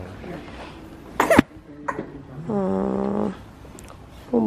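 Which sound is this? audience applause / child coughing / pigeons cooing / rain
child coughing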